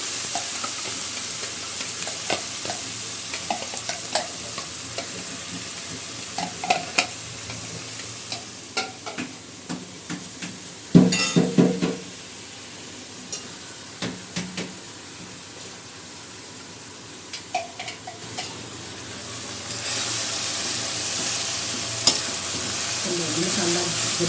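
Cauliflower sabzi stir-frying with curry leaves and spices in a pan, a steady close sizzle with scraping stirs throughout, a louder clatter near the middle and a brief rush of tap water toward the end.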